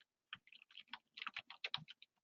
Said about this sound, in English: I type in that keyword